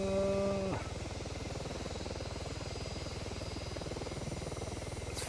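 A VTOL aircraft engine runs at full throttle in the ArmA 3 video game, a steady rapid rotor-like thrum with a constant whine, loud and close throughout.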